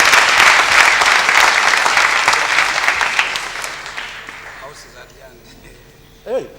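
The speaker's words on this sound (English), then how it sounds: "Let's give a hand clap to our honorable members who managed to stay around to the end." Members of a legislative house clap together at the close of a sitting, loud and dense at first, then thinning and fading out, with a brief voice or sound rising at the very end.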